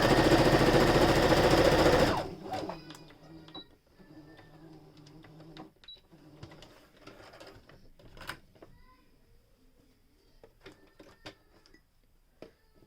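A sewing machine straight-stitches the lining of a face mask in a loud, close two-second run of rapid whirring, then falls to intermittent faint clicks and handling sounds.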